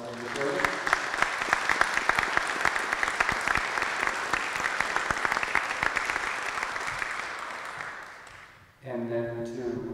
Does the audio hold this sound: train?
no